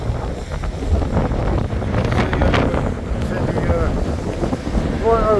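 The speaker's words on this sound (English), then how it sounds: "Right over the back there, you can see the waves driving right over that sea." Strong wind buffets the microphone over the roar of rough, stormy sea waves at Lyme Regis beach, loud and close, with a voice speaking over the noise.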